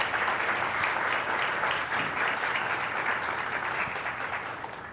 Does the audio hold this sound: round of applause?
yes